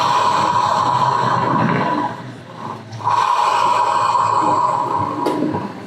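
A worn torque drive bearing on the rear wheel of a Honda ADV 160 scooter gives a steady grinding, roaring whine that runs continuously, dips briefly near the middle, then resumes at the same level without any talk.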